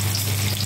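Cumin seeds and mustard seeds sizzle in hot oil for dosa and sambhar potatoes, a short, dense, loud frying hiss heard close up, steady and unbroken, with a low hum beneath.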